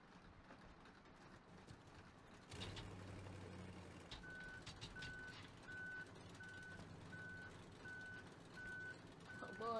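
A vehicle reversing in a video game, emitting a regular series of evenly spaced electronic beeps over a continuous engine rumble and clattering mechanical noise.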